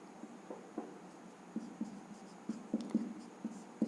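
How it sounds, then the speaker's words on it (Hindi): Marker or chalk writing on a classroom board during a general knowledge lesson, a series of quiet, irregular scratchy strokes and taps heard fairly close, with no talking over them. "फिर से लिख देता हूँ"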